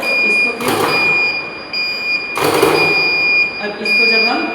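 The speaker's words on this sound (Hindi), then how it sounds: "और उसके बाद ये अलार्म चलेगा।" A fault alarm sounds steadily from an SF6 circuit breaker panel, a continuous high electronic tone running through the whole stretch under someone speaking in bursts.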